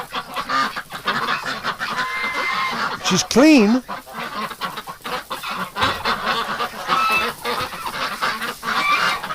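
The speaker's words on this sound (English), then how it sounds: "Oh, look at this. All these ducks." Ducks in winter, Muscovy ducks among them, honk and quack in a busy overlapping chorus close by, with one louder wavering call standing out midway and a person speaking briefly over the flock.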